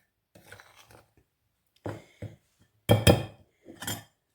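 Chocolate being stirred into a tea loaf mixture in a mixing bowl, giving a few scattered scraping clinks and knocks of a utensil against the bowl, close and moderately loud, with quiet gaps between the bursts.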